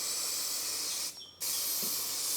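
Aerosol spray can applying a protective coating onto a print, a loud continuous hiss broken by one short pause as the stroke reverses, then resuming steadily, close up and alone.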